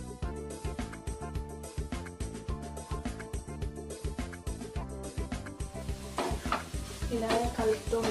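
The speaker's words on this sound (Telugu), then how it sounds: "స్టవ్ సిమ్లో పెట్టి మిక్స్ చేస్తూ ఉండాలి" Beetroot sweet with sugar being stirred in a pan over a low flame, a steady run of scraping strokes with soft sizzling that grows busier and louder toward the end, no voices.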